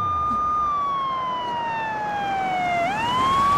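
A wailing ambulance siren sounds steadily and fairly close, its tone sliding slowly down and then sweeping back up near the end, with traffic noise underneath.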